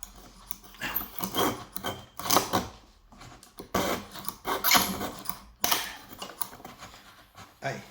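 Rough back-and-forth strokes of a hand saw biting into fibrous wood along the grain, in uneven bursts with brief pauses between them.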